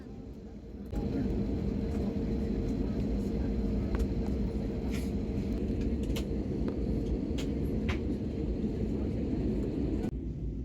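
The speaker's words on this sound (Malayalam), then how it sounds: "ഫൈനലി നമ്മുടെ ഫ്ലൈറ്റ് മൂവ് ആയി തുടങ്ങിയിട്ടോ." An IndiGo passenger jet begins rolling toward take-off, heard from inside the cabin: a steady, deep engine rumble swells in after a quiet second and holds evenly throughout, with a faint high whine above it.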